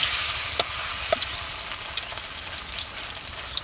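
An egg paratha fries in a hot pan, giving a steady, close sizzle with scattered pops and crackles throughout and no talking.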